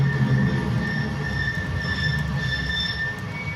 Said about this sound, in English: That's just a bus stopping, a bus braking, the sound of a bus braking.